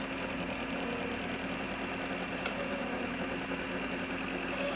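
Stepper motor on a DIY filament extruder spooler, running a yellow PETG spool, makes a steady mechanical whir with a rapid regular ticking texture, continuous and fairly quiet throughout with no talk.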